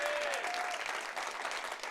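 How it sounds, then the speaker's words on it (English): Sustained applause from a large keynote audience at a 2017 conference, full and even clapping across the whole stretch with a slight murmur of crowd underneath. "Applause for them."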